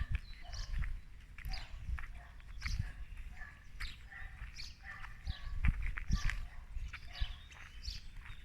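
A horse walks close by outdoors at the Mas des Trois Cloches, with scattered soft hoof thuds over a steady bed of birdsong and faint rustling.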